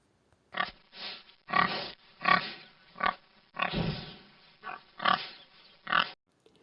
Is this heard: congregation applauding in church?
no